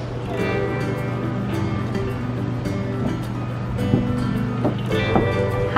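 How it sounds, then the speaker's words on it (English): Ocean surf on the Outer Banks of North Carolina, a steady loud wash of waves with wind noise and a strong low hum throughout, brief bumps near the end. "there's the ocean"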